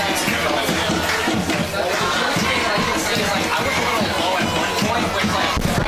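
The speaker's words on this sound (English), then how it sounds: "A really good crowd here tonight too" Full stands at a high school football game during a blackout home opener, giving a steady babble of crowd chatter and scattered shouts as a continuous moderate hubbub.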